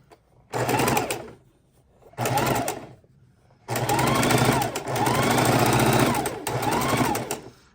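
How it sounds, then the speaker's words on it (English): A sewing machine stitches quarter-inch quilt seams in three runs of rapid mechanical whirring separated by short pauses, with the last run longest, heard close and alone. "we're just going to keep on stitching these until we have a whole pile ready"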